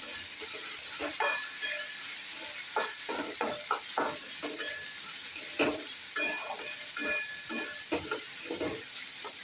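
Pointed gourd frying in hot oil, a steady close sizzle with a bright hiss and bursts of crackle as the pieces are stirred in the pan.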